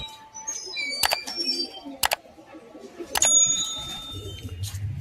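Pigeons in a loft give low cooing calls beneath sharp metallic clinks and chirps, close by, with a few sudden loud taps and a person speaking faintly in the background.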